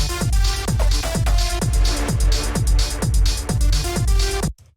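Dense techno loop with a steady pounding four-on-the-floor kick, busy hi-hats and layered synth stabs, loud and continuous before stopping abruptly near the end.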